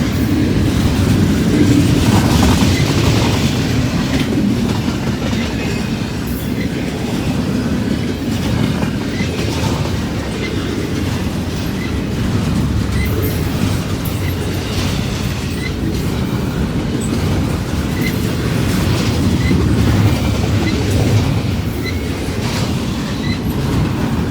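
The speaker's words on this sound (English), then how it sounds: "One long intermodal here." A long intermodal freight train passing near County Road 18, a loud, sustained rumble of rolling wagons with clickety-clack over the rails and faint wheel squeal throughout.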